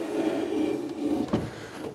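A drawer in a newly built apartment slides along its runners with a smooth, muffled rumble, ending in a soft knock.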